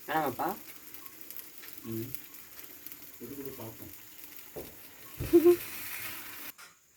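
Duck-egg dosa batter sizzles and fries on a hot pan at home, a steady close crackle with brief stirring or scraping clatters and a louder burst near the end, with quiet talk in the background.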